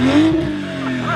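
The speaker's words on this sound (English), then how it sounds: "It sounds like a very nice Supra." A Toyota Supra engine revs in a short high-pitched rising whine that holds steady and close, with a faint voice in the background.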